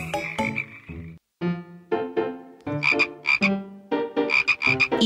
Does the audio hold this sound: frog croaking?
yes